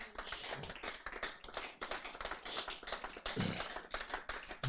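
A church congregation claps in praise of the Lord, a fast, dense patter of many hands, steady and fairly faint with no voices over it.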